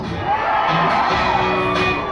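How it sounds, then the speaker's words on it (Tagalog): Large rally crowd shouting, whooping and cheering loudly and continuously, a dense wall of voices with scattered higher shrieks rising out of the din. "Sigaw na may kasamang tayo at hiyaw na napakalakas."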